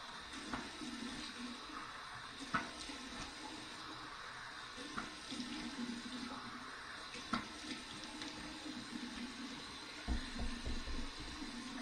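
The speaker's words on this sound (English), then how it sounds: "Here's my warm water rinse." Warm water runs from a tap for a shaving rinse, a steady close splashing flow with small intermittent splashes and drips over the whole stretch, fairly quiet.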